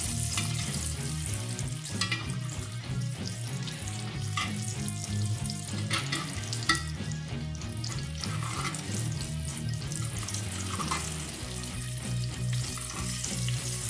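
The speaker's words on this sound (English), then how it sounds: "As that butter starts to melt, I'll kind of just swish it around in the pan, get it all over the fish." Butter melting and frying with rainbow trout in a cast iron pan, a steady close sizzle that runs the whole time under dense layered background sound, with no talking.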